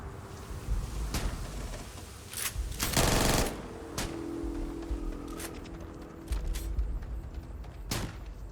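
Gunfire in Starfield crackles in scattered short bursts, with one longer rattling volley in the middle and sharp isolated shots before and after, over a quiet ambient background.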